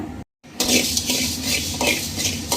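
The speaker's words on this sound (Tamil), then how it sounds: "இப்போ வந்துட்டு தனியாவை வறுத்து எடுத்துக்கலாங்க." Coriander seeds are dry roasted in a hot kadai, rattling and scraping against the metal pan under a stirring utensil. The sound is close and continuous after a brief silence at the start.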